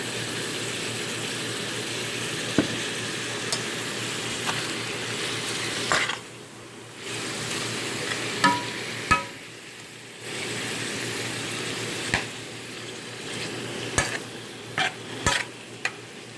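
Onions with chili powder and onion powder frying in a pan, a steady sizzle broken by repeated spoon clicks and scrapes, with the frying dipping quieter for a few seconds midway.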